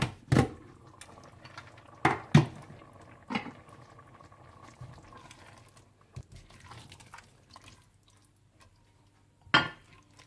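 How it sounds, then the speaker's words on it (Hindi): Black-eyed pea dal is served out with a utensil, producing a few scattered clinks and soft wet scrapes against a pot, with quiet pauses between. "लोबिया की दाल तैयार हो चुकी है, अब इसे मैं डिश आउट कर लूंगी।"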